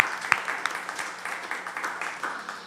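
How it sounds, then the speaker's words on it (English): Applause from a live radio show audience after a bluegrass set, a steady patter of many hands clapping at moderate distance, with a few sharper individual claps and no talk over it. "how about one more round of applause for Noah Smith"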